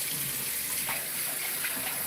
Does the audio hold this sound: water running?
yes